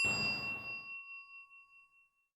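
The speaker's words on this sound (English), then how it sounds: "We will ring the bell to start and ring the bell to end the moment of silence." A single bell struck once to open a moment of silence at a domestic violence awareness remembrance event, its clear metallic tone ringing out and slowly decaying over about two seconds in a quiet room.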